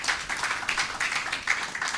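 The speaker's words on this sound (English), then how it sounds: "a final round of applause for the audience that we have here" Audience applause at a MindTalk event: dense, steady clapping from a crowd that holds at an even level for the whole stretch, with no voices over it.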